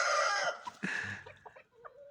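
Backyard chickens clucking and squawking up close, a loud burst of calls at first that breaks into shorter, scattered clucks.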